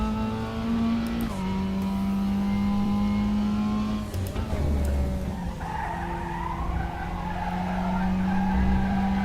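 A Mazda MX-5 race car in the RaceRoom racing game slides through corners, its engine droning steadily while tires squeal and skid loudly, the pitch shifting with downshifts and revs, close and continuous without talk.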